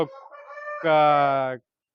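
An Aseel rooster gives a short, loud burst of clucking and crowing-like calls close to the listener, ending abruptly.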